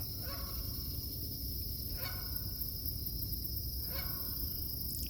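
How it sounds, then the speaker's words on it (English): Geese honk in the distance at a beaver pond along a trail, a few spaced calls over a constant insect-like drone and low background rumble. "Geese in the background."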